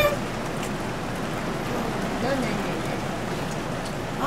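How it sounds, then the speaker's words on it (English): Pouring rain outside at a campground, heard as a steady dense hiss of falling drops lasting several seconds, moderately loud and even, with no talk. "It's pouring rain again. It's coming down."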